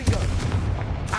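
Spell blasts fired in a Hogwarts Legacy game fight, heavy booming bursts over a dense low rumble of battle noise, continuous and loud with no clear gaps.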